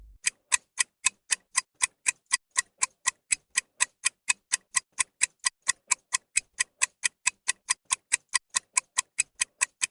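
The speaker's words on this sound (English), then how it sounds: "you can hear the ticking of a clock that was never found" A clock in a quiet attic ticks steadily and crisply, roughly four even ticks per second, alone with no other sound.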